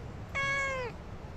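A cat gives a single clear, drawn-out meow that falls in pitch at the end, close and distinct over a quiet background, with no one speaking.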